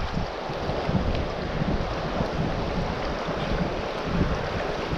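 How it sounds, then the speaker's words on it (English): Rushing river rapids on the left branch of a fork on the Flathead, a steady broadband wash of churning water mixed with wind buffeting the microphone, continuous and close with no voices. "Here are the rapids. This is the left side of the fork."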